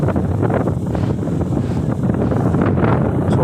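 Strong wind gusting through trees during an evening rainstorm, a loud, steady roar with buffeting against the microphone and no pause.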